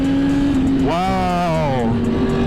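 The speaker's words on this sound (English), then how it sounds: "That Ducati sounds mean, bro." A Ducati motorcycle engine revs once, its pitch swelling up and easing back down over a steady idle drone, heard close during a night ride through Miami.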